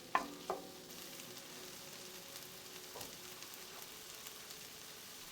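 Spices sauté in a hot pan for chicken liver, giving a soft, quiet sizzle with a few clinks of stirring near the start and scattered faint taps, close and without talk.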